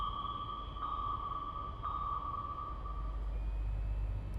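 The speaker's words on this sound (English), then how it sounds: "They're on active sonar, too." Active sonar in the submarine game Cold Waters sends a sustained high ping tone with two brief brighter pulses, heard faintly over a low rumbling underwater drone.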